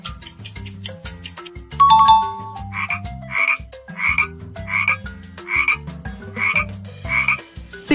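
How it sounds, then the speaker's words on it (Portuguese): A frog croaks in a steady series of about eight loud, close, evenly spaced calls over light background music, with no talking. "esse som é do sapo"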